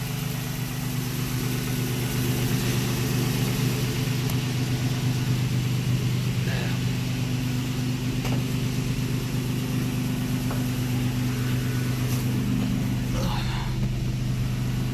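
A Nissan Sentra with a VQ engine idles after warming up, a steady, even low rumble that holds constant and close throughout with no revving.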